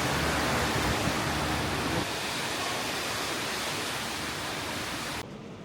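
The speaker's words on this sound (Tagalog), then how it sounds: "Ang lakas ng ulan." Dense, steady roar of heavy morning rain pouring down in Pattaya, Thailand, a constant broadband hiss with no voices, slightly quieter toward the end.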